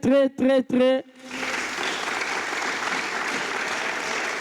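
An improv theatre audience breaks into loud, sustained applause right after a short burst of voices, the clapping filling the room as a dense, even wash.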